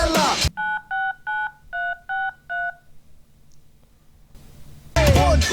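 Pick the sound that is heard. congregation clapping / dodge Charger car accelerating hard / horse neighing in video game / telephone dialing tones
telephone dialing tones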